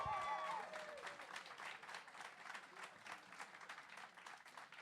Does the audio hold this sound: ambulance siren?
no